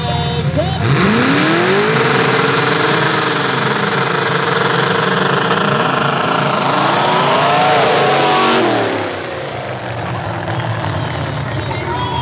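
Two Chevrolet-powered drag race cars launch hard at a Full Throttle Throwdown event, engines screaming and rising in pitch as they pull away down the strip, loud and close, then dropping to a lower distant roar.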